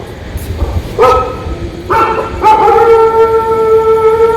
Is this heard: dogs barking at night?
yes